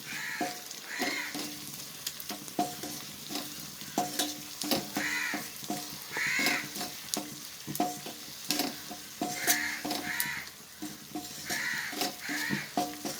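Shallots and prawns sautéing in a pan for a prawn roast, a steady sizzle broken by repeated spoon scrapes and stirs in an irregular rhythm, close and fairly quiet, with no talk.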